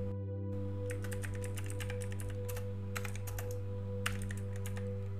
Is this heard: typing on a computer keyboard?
yes